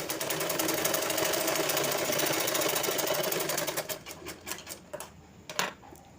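A sewing machine stitches the front of a blouse with a fast, steady mechanical chatter for about four seconds, then slows into a few separate stitches and clicks before stopping. The sound is close and there is no talking.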